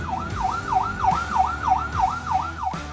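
Ambulance siren in the long-distance highway pattern, a steady wail sweeping smoothly up and down about every third of a second, loud and close with a low rumble beneath, no talk.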